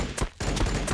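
Heavy stubber gunfire in a Warhammer 40,000 video game, a short burst of loud rapid shots with a brief gap in the middle.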